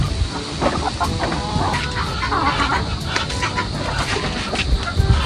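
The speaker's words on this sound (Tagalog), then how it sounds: "Mga manok po dito ay abangers na po kay Bal." Chickens cluck continuously and fairly loudly nearby, a busy overlapping flock sound with scattered sharper calls.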